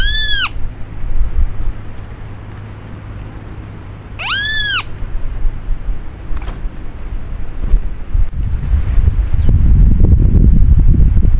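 A great kiskadee (bem-te-vi) at a water trough gives two loud, ringing calls a few seconds apart, close by, followed by gusty wind noise and rustling in the dry-season outdoor setting.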